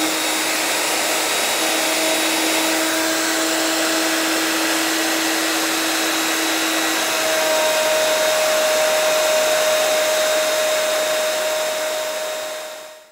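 A router fitted with a 1/2 inch bit cutting plywood, a loud, steady high motor whine that holds for the whole stretch and then winds down at the end.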